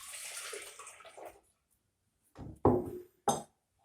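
Raw milk is poured from a quart container, a short liquid splash at the start that then fades, followed by silence and two brief knocks of container handling.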